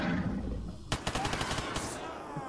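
Rapid bursts of automatic gunfire in the S.T.A.L.K.E.R. GAMMA shooter game, a quick string of sharp close shots over a steady background hum, with a voice faintly present.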